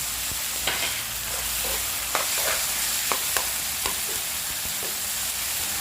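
Spicy crocodile meat stir-fried in a pan, a steady broad sizzle with scattered sharp scrapes and clacks of a spatula against the pan, no voices.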